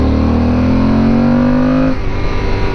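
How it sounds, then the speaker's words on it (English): Yamaha Super Tenere motorcycle engine revved as the throttle is cracked open, a loud, close, rising drone that cuts off sharply near the end into a lower idle rumble. "You hear the motor when I crack it open."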